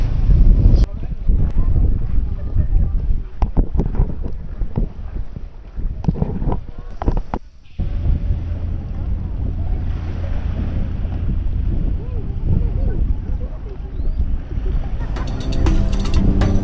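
A boat crossing rough open sea on the way back from Maniwaya Island, Marinduque, with a constant low engine rumble, wind buffeting the microphone and waves slapping the hull, steady and close throughout.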